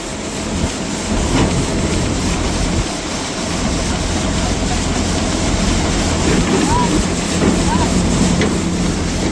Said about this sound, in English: Maybe I'll empty out the auger.